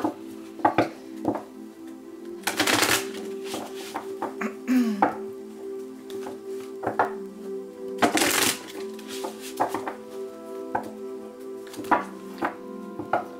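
A deck of tarot cards is shuffled by hand in repeated riffles and bridge-like flutters with soft taps between, close and steady, with a faint continuous tone in the background.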